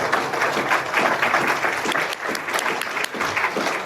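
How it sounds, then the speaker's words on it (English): Audience at an AA conference in Bermuda applauds steadily for Al-Anon, a dense wash of clapping from many hands that holds loud and even throughout without breaking. "Give Al-Anon a round of applause."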